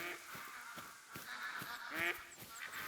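Mallard ducks calling in theHunter: Call of the Wild, a run of nasal quacks and honking calls from several birds overlapping at a moderate distance over a steady outdoor background.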